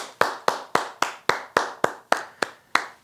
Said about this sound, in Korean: 우리 하나님께 영광의 박수 올려드립시다.